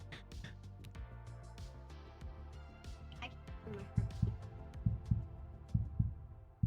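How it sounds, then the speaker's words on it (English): Heartbeat sound effect over a musical, humming background, with a series of deep, evenly spaced thumps growing louder in the second half. "And you can hear your own heartbeat."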